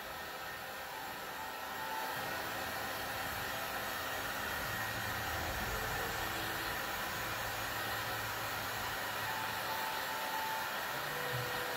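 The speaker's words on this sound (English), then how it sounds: "I'm doing circular motions so that I can distribute the heat, the hot air all around." A hot air heat gun blows continuously, a steady close whooshing roar, while shrinking window film onto the rear glass of a 2017 VW Beetle; the airflow shifts slightly as the gun moves in circles, with no talking.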